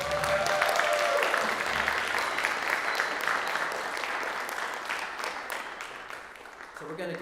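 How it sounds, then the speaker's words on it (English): An audience applauds steadily at an event, a dense wash of clapping that holds for several seconds before thinning out toward the end, with a voice briefly audible near the start. "Can we get one more round of applause?"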